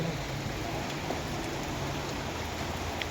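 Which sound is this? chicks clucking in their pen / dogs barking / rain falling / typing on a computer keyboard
rain falling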